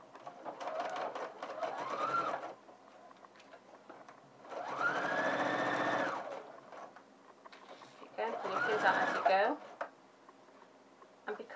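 A sewing machine stitches lining to a jacket vent in three steady bursts of close, rapid running, separated by pauses with a person talking in between.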